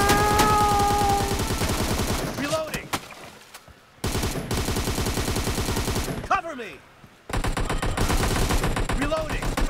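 Rapid automatic rifle fire from an AKM in the PUBG Mobile shooter game, dense bursts of shots that stop and resume several times, with a player's voice talking over the gunfire.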